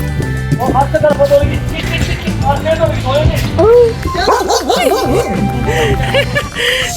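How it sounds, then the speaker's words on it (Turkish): A dog yips and whimpers nearby on a walk outdoors, its high, wavering calls repeating over a busy background of people talking and general bustle. "Çocuklar köpek var burada."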